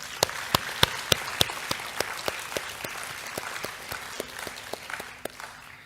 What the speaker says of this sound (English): They deserve our applause too.